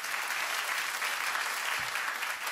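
A live concert audience applauds the keyboardist with continuous, even clapping from a sizable crowd, steady for the whole stretch.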